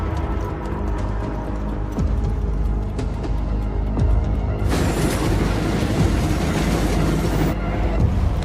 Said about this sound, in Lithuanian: Traukinys.